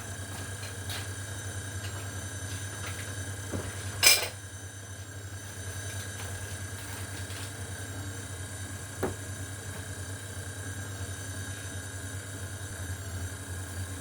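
A stand mixer hums steadily on a kitchen worktop while dishes and utensils are tidied away, with a sharp clatter partway through and a smaller knock later, no talk.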